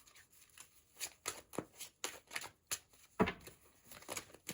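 Tarot cards shuffled by hand for a reading, a run of quick, soft riffling bursts and papery slaps in an irregular rhythm, close and fairly quiet.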